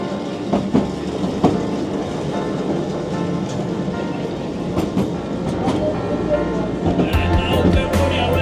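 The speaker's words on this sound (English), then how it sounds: "There goes the tram, heading up to the Great Orme." The Great Orme tram in the seaside town of Llandudno pulls away with a steady rumble and rail clatter, mixed with seaside background noise and some nearby talking.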